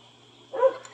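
A single short dog bark rings out close and fairly loud in a quiet home after a moment of near silence.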